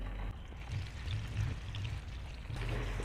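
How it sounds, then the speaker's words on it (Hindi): About a quarter cup of cooking oil is poured into a frying pan for shallow-frying minced-meat kababs, a steady, close, gentle pouring hiss lasting a few seconds with no talk. "तो थोड़ा सा 1/4 कप हम इसमें ऑयल डाल दिया।"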